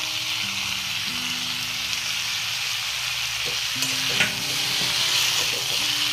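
Chopped onion, cauliflower stalks and potato fry in a pan with a steady, close sizzle, and a few stirring scrapes and knocks come in partway through.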